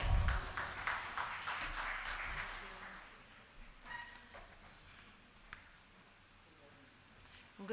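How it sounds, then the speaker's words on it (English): An audience at a college conference claps for an arriving guest. The applause is moderate at first and thins into scattered, fading claps with faint rustling and footsteps. "A huge round of applause."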